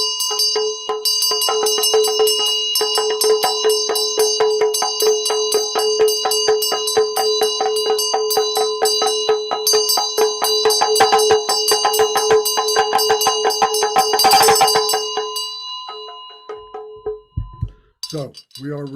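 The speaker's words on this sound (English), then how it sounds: "So we are rejoicing with the bell and the dorje." A small Tibetan ritual bell rings rapidly and continuously during a Green Tara practice, a bright shimmering tremolo with faint voices underneath, ending in a brief clatter as it is set down.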